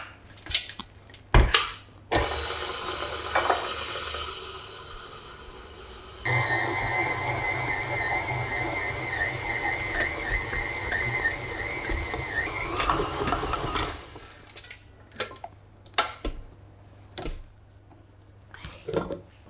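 A stand mixer kneading babka dough with eggs and butter, a sustained whirring motor with a squealing, slapping tone, framed by scattered clunks and taps before and after.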